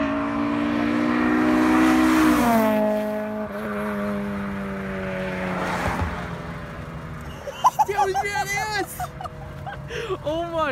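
A K20-engined Honda Integra accelerates hard nearby, its engine note climbing to a loud roar before falling away, followed by excited voices talking over the fading sound.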